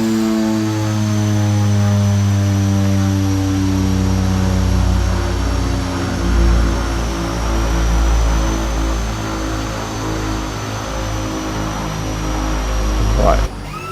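Simulated DHC-6 Twin Otter twin-turboprop taking off in Microsoft Flight Simulator 2020, a loud steady propeller drone with rising engine pitch and layered low hum throughout, ending with a brief sweep and cutoff.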